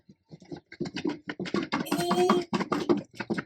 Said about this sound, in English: Dropping some books.